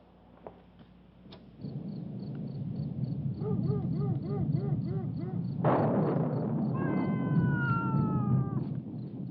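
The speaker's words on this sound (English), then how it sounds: "Cat." A cat meowing in a film scene at night, a drawn-out meow near the end over a noisy background with rhythmic warbling tones and a low rumble.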